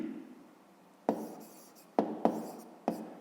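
Pen writing on paper during a fifth-grade math exercise, a few short scratchy strokes with small taps between them, close and quiet in an otherwise still room.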